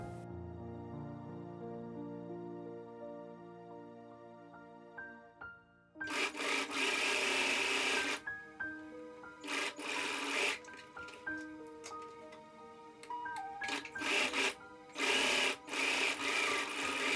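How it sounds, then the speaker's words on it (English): After a sustained musical opening, a sewing machine stitches striped fabric tote bag pieces together in several loud, close bursts separated by short pauses. "we're sewing the 2 faces of the striped fabric together"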